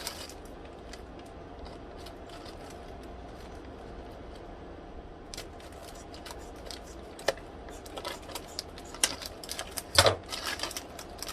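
Metal shears snip open a plastic pepperoni package in a home kitchen. A few close, crisp cuts and crinkles come late, after a quiet stretch of faint rustling.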